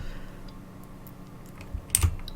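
Close-miked computer keyboard typing during a game development session, quiet scattered keystrokes with a louder cluster of clacks near the end.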